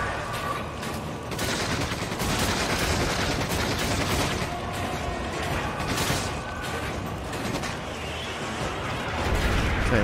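Dense, continuous gunfire in the video game Resident Evil 5 during a fight with a large crab-like creature, loud and sustained with overlapping shots and clattering bursts throughout.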